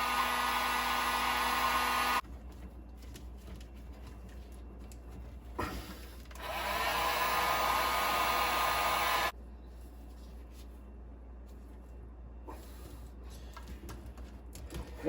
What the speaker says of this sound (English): put some heat to the heat shrink